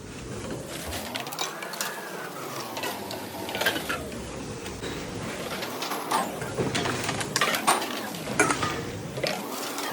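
Bottles dropped into a bottle return machine at a shop in Germany, with a whirring conveyor hum that rises and falls in cycles and scattered clinks and rattles of bottles being taken in, close by.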